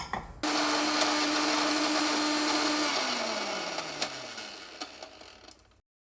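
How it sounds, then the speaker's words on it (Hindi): A kitchen mixer grinder whirs loudly and steadily as it grinds roasted dry spices with dried coconut powder for dabeli masala, its motor pitch sagging slightly as it runs down near the end, with no talking. "और अब इस मसाले को हम ठंडा होने देंगे, फिर पीसेंगे।"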